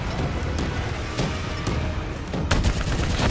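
Dense gunfire in the video game Call of Duty Black Ops III, a continuous rattle of rapid shots with sharper bursts standing out near the end, loud and close throughout.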